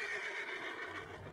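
A horse whinnies in Red Dead Redemption 2, a bright, wavering neigh lasting the whole short moment, fairly faint and set against soft game ambience.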